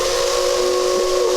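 A loud, steady steam whistle blows continuously, its shrill tone sitting over a hissing wash of steam.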